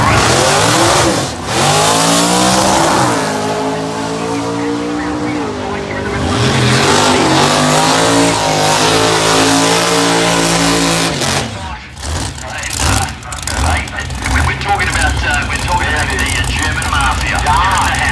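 A drag racing car engine revs hard and loud at close range, its pitch climbing and falling in long sweeps before settling into choppy, rough bursts, with heavy low rumble throughout.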